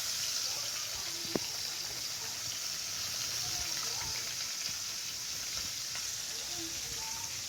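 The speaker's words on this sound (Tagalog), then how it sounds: "nagluluto ako ngayon ng prito ng isda" Steady, crackling sizzle of fish frying in hot oil, continuous and fairly loud with scattered pops throughout.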